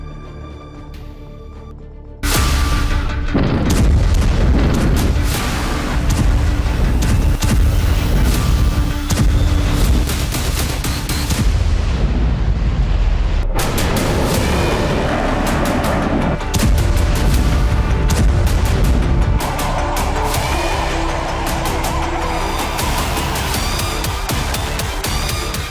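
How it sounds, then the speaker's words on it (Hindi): Explosions from a military strike in southern Khan Younis, heard as loud, heavy booms and rumbling blasts over a sustained roar of noise, with sudden shifts in intensity across nearly half a minute. "दक्षिणी खान यूनिस में आईडीएफ का हमला।"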